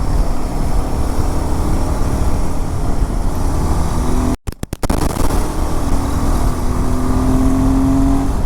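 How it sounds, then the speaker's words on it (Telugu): A Royal Enfield Himalayan 450 motorcycle rides on a racing track, its engine a loud, steady drone under heavy wind rush, with a brief dropout midway and a rising pitch toward the end. "ఫస్ట్ టైం హిమాలయన్ పైన మన రేసింగ్ ట్రాక్ పైన అయితే వెళ్తున్నాం."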